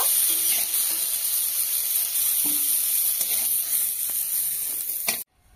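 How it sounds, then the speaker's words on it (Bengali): Cauliflower pieces frying in hot oil in a pan for a Bengali fish curry, giving a steady, close, loud sizzle with faint stirring scrapes, cut off abruptly near the end. "ফুলকপিগুলো দেখুন আমি হালকা লাল লাল করে ভেজে নিয়েছি, তো এখন তুলে নেব।"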